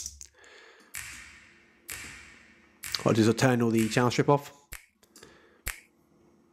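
Snap percussion sample from a tropical house loop pack, several sharp, dry finger-snap hits spaced about a second apart, with someone talking over part of the sequence.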